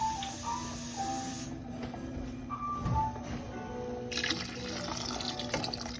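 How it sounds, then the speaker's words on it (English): Water pours from a tap into a stew pot of vegetables, a continuous rushing splash that shifts in tone as the pot fills, with no talking. "So I'm gonna add more water into here."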